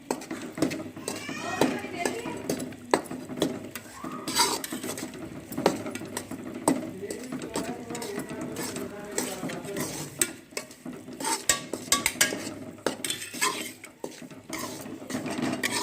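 Rice flour roasts in a pan with ghee, a spoon scraping and clinking against the metal in a steady irregular rhythm, with faint background noise throughout.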